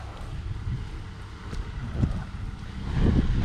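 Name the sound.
wind blowing around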